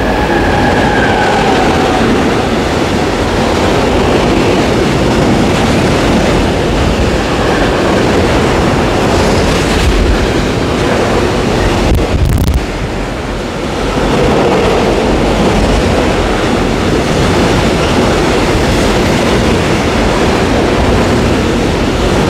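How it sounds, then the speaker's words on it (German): A passenger train thunders through Braunschweig main station at night on platform 7 without stopping, a loud, steady roar of wheels and rushing wind lasting over twenty seconds with one brief dip. "jetzt kommt der angehörige Zug, der hier durchfährt"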